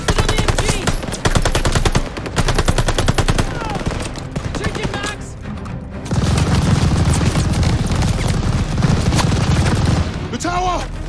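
Sustained machine gun bursts rattle almost without pause in a Call of Duty: Vanguard battle at a bridge, dense and loud, with voices shouting over the firing.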